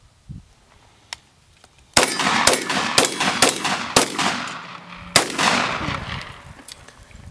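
Rifle fitted with a saw-style pistol grip, fired while the shooter moves: a rapid series of about six sharp, loud reports with ringing decay, beginning after a quiet lead-in and ending in a final heavier shot.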